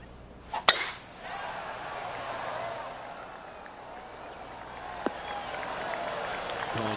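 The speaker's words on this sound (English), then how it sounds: "Oh, golf clap." A sharp golf shot strike in a video game is followed by a sustained golf clap of polite applause from a modest crowd, steady and fairly soft.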